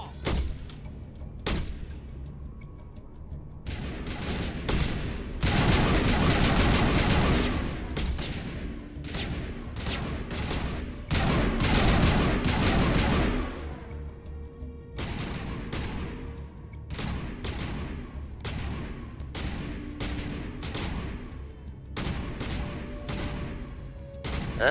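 Combat gunfire and turret fire in Mass Effect, with sustained heavy bursts of rapid shots swelling loud around six and twelve seconds, broken by quieter gaps and single cracks, mostly without speech.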